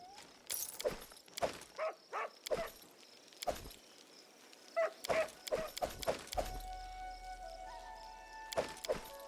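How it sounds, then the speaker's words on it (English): Dog barking in Pathfinder: Kingmaker, a series of sharp, evenly spaced barks and yips of moderate loudness, joined later by steady tones and soft thuds, with no talking. "Man, that puppy be barking?"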